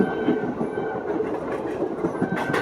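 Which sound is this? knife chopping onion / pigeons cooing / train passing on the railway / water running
train passing on the railway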